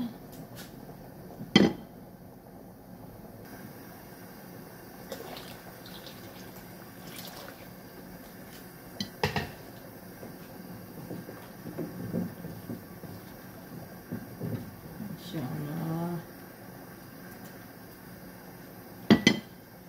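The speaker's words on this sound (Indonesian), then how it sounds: "Kemudian diaduk langsung ya." Soup stirred in a pot, with intermittent clinks of a utensil on metal, sloshing liquid and scattered knocks over about twenty seconds, fairly quiet with occasional louder hits.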